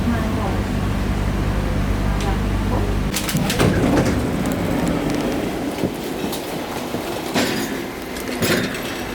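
A train rumbles steadily, then turns to a busy rattling clatter with sharp metallic squeals and clanks, heard close by with some faint background voices.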